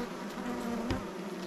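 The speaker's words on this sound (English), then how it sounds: "I'm going to shake the rest of the bees into there" Honey bees being shaken from Langstroth frames into a top bar hive hum in a soft, steady swarm buzz, close and continuous with no talking.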